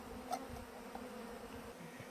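Honeybees hum softly in a package cage being installed into a long hive, a faint continuous drone with a couple of small knocks.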